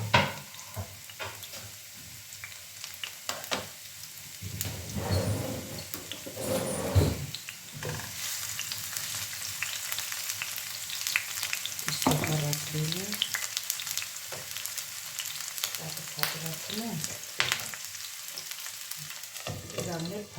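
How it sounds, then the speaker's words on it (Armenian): Coarsely chopped onion fries in olive oil in a pan, giving off a steady sizzle for the whole stretch. Occasional stirring scrapes and clatters rise above the hiss. "Ուրեմն դիթապտվի յուղը լցրել եմ, սոխը կտրատել եմ խոշոր"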